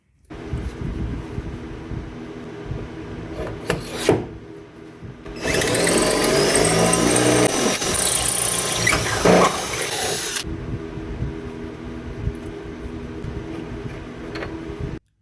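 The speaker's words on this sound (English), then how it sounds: "we will take the drill bit, go through the bolt, and then drill up through the cabin" Power drill boring through a bolt into the rear chassis of a BMW E46, a loud continuous whine lasting about five seconds between quieter handling clatter and tool knocks.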